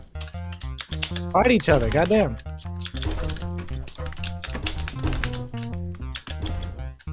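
Two Razer Huntsman keyboards, one linear and one clicky, are typed on rapidly and simultaneously, producing dense, loud keystroke clatter close by, mixed with excited shouting voices.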